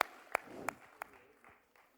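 Sparse, faint claps from an audience at a students' conference, a handful of separate sharp hand claps spaced about a third of a second apart with quiet room tone between them.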